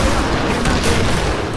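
Dense, continuous rattling gunfire from the video game Killing Floor fills the whole moment, loud and unbroken, with crackling bursts layered over each other.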